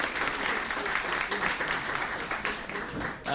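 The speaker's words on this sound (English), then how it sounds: "Please join me in giving a rousing round of applause to our panelists." A conference audience applauds its panelists at the close of a policy discussion on the creative economy, sustained crowd clapping at full strength with slight swells, filling the room without speech on top.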